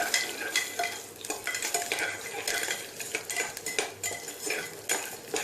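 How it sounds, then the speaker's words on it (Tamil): Urad dal, garlic and ginger fry in a pan for an Andhra-style coriander chutney, with a quiet sizzle under repeated metal spoon scrapes and clinks as the mixture is stirred. "உளுந்தம்பருப்பு நல்லா சிவக்க வறுத்த பின்னால் அதில் பூண்டு, இஞ்சி சேர்த்துக்கிறோம்"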